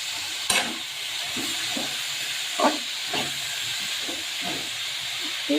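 Garlic, spinach and eggplant fry in a pan, a continuous hiss with spatula stirring and scraping knocks at irregular intervals, close up with no talk.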